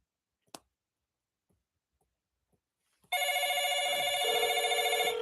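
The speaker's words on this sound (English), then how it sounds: "It's ringing." A few faint clicks and taps, then a telephone begins ringing loudly with a bright, trilling electronic ring that continues.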